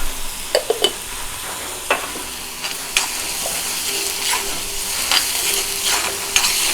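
Onion being sautéed in a pan until pink, with a steady sizzle broken by sharp scraping stirs of the spatula at irregular intervals, close and fairly loud, with no voices.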